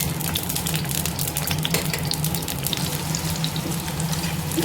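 Ginger, shallots and garlic sauté in hot oil with a dense, steady crackling sizzle heard close up, alone and without talking.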